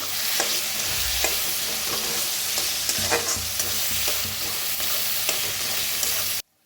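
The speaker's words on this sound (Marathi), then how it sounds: "अद्रक लसूणची पेस्ट, चांगलं भाजून घेऊया." Ginger-garlic paste fries with onion in a pan, sending up a loud, steady sizzle mixed with repeated scraping stirs, close at hand, before it cuts off abruptly.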